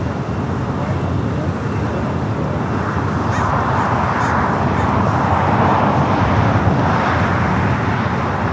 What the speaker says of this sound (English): 747-8 freighter will obviously take off on the 25 left here on the south side